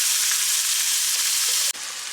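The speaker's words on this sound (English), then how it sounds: "So we got our fillets cooking up nice and right." Speckled trout fillets frying in a pan with a steady, close, bright sizzle that drops off slightly near the end. No voices.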